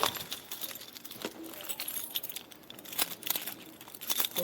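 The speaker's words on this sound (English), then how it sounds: "Which one of these keys?" A bunch of keys jangles and clinks in irregular bursts while someone walks around hunting for the right key, moderately close with some crinkling handling noise and no speech.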